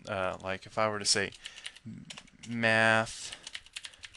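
Computer keyboard typing in quick clicky bursts between stretches of someone talking, the keystrokes close and fairly faint.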